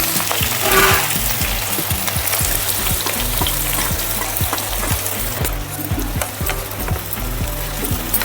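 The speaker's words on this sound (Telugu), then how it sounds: "ఆనియన్స్ మంచిగా గోల్డెన్ బ్రౌన్ కలర్ వచ్చేంత వరకు ఫ్రై చేసుకోవాలండి" Sliced onions and green chilli frying in hot oil for a tamarind-leaf dried fish curry, a steady loud sizzle with repeated scraping stirs of a spatula against the pan throughout.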